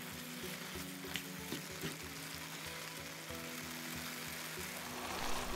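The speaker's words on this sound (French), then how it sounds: "on remue le tout et on surveille que ça ne brûle pas dans le fond" Spring roll filling for Shanghai-style spring rolls cooking down in a covered pan, with a steady soft sizzle and occasional scraping stirs throughout.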